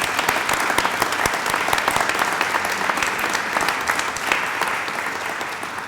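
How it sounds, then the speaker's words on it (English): A round of applause from an audience honoring public officials and partners at a business expansion announcement in Baldwyn, Mississippi; dense, steady clapping fills the full stretch at an even loudness and fades slightly near the end. "let's give all of our public officials and our partners a round of applause."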